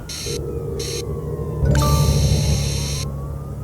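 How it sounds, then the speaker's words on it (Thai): Police car siren wailing at a city street intersection, rising and falling tones over steady traffic rumble and engine noise, growing louder as the vehicle arrives. "เอ้ารถตำรวจมานะครับ"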